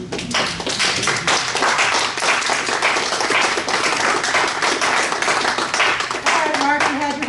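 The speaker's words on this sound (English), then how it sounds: "And you're allowed to clap, yes." An audience at a humanist program gives steady, dense clapping that fills the whole stretch, loud and continuous with scattered individual claps.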